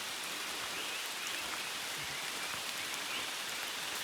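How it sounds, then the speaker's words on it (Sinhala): Light drizzle falls on a rugged mountain trail to Adam's Peak, a soft, even patter of raindrops that continues faintly and steadily with no voices. "ඊයසින් වහිනවා."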